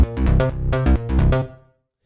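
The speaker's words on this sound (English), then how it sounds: "you're going to hear that sound, this rolling bass line" A synth bass line rolls through a narrow-Q SSL-style EQ boost, playing a quick run of loud, punchy repeated notes with resonant upper harmonics, then a short decay to silence, with no voices.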